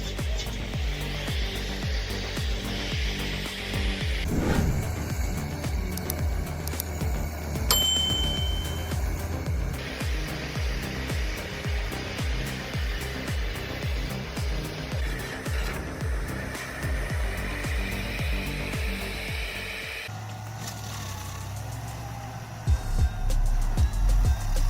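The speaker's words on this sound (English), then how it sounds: "The Rayco RG80 grinds stumps with ease, reducing even the toughest roots to mulch in minutes." Rayco RG80 stump grinder chewing through a tree stump and its roots, a loud continuous machine roar with gritty, crackling grinding bursts that shift in pitch, ending with a deeper rumble.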